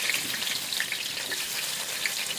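Onions sizzle in ghee with cinnamon and cloves for an Andhra-style palav, a steady close crackling hiss with scattered tiny pops and no talk.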